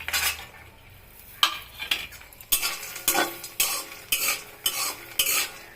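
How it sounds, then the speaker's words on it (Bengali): Fox nuts (makhana) fry in melted butter and refined white oil while a spoon stirs them in a pan for paneer makhana, giving a fast, rhythmic series of loud metal scrapes over a bubbling sizzle. "এখন আমি মাখানাটা দিয়ে ভাজবো।"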